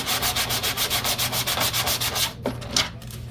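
Cured wet-system epoxy fillet sanded freehand by hand, a close run of quick, steady back-and-forth rubbing strokes that stops abruptly partway through, followed by a few soft scrapes.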